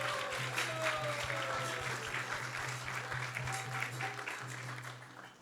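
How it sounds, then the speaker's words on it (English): An audience at an ISKCON temple gathering applauds after a lively kirtan, a sustained burst of clapping that gradually fades over several seconds. "let's give him a round of applause."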